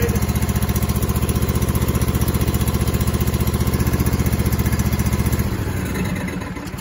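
Two-cylinder riding mower engine firing on only one cylinder, a loud, close, rapid and evenly pulsing thump that runs steadily, then loosens and falters near the end as the engine cuts out.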